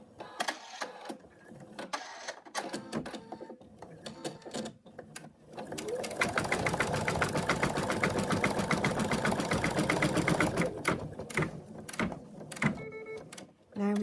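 An embroidery sewing machine stitches fabric in a fast, continuous mechanical whir for about five seconds, bracketed by clicks and handling noises before and after.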